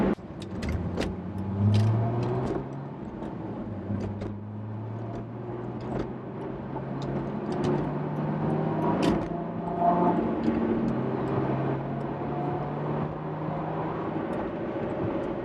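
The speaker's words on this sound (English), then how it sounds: "It has a V8 growl to it, and it has the pickup and the acceleration of a V8." A 2005 Chrysler Crossfire with a V6 engine growls steadily while driving, a continuous low rumble with road and wind noise rising and falling, and a few faint ticks and rattles in the cabin.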